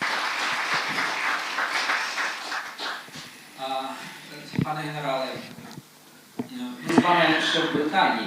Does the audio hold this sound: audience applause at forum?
yes